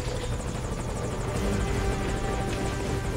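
A helicopter rotor thrums steadily as the aircraft arrives at a landing zone in the video game Metal Gear Solid 5, a moderately loud, continuous chopping drone with no voices over it.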